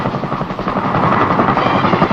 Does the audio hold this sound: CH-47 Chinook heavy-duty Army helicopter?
yes